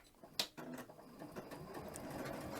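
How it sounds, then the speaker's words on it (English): Sewing machine stitching a wide zigzag on fabric backed with stabilizer, starting with a sharp click and then a steady rapid mechanical rattle, close and moderately loud. "I'm going to put my foot down, and I'm going to start stitching."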